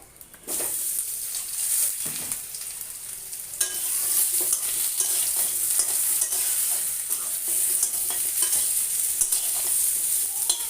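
Cut potatoes tipped into a hot frying pan of spiced oil for a Mymensingh eggplant and small-fish curry, sizzling steadily and loudly while being stirred, with scraping spoon strokes throughout and no talk.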